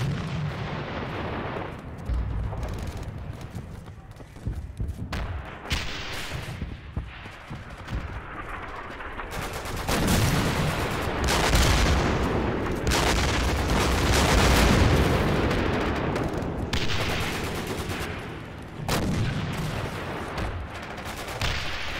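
Artillery barrage in the WWII game Darkest Hour: Europe '44-'45, a sustained run of heavy booms and crashing shell impacts rolling over one another, loud and continuous with no talking.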